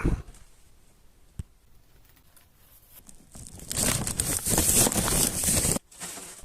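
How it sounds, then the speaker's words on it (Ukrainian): Thin plastic shopping bag from the ATB store crinkling and rustling as 5 kg dumbbell weight plates are dropped in, starting with a few sharp crackles and then swelling into a loud, sustained crinkle that ends abruptly and resumes briefly. "беремо наш пакет та закидаємо перші 5 кг"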